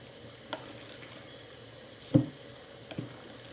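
A spoon stirs sugar and cardamom powder into a dish in a home kitchen, with quiet scraping and three soft, distinct clinks spread across a few seconds.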